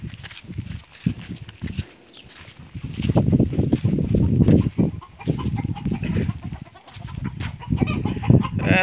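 Large roosters and hens cluck and call at a farm alongside a desert camel farm in Qatar, in repeated bursts of clucking close by, with a few soft footstep-like thuds.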